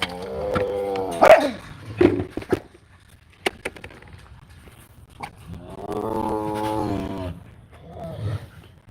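Several dogs bark in short bursts around a home yard, a few loud close barks early on, then a longer stretch of vocal calling, with a person's voice nearby at times.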